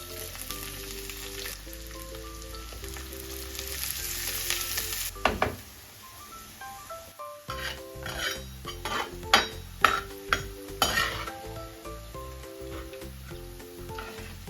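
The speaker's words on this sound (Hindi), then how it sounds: "उसके बाद प्याज का तड़का करेंगे।" Cabbage and onion fry in hot oil for a tadka, a continuous sizzle broken by clinking utensil stirs and pan knocks, all set under steady background music.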